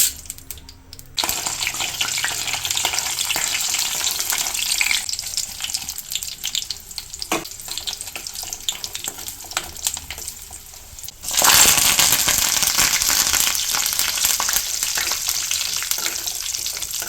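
A bright hissing sizzle of spice tempering in oil for raw tamarind pickle, quieter at first, then swelling suddenly louder and continuing steadily to the end.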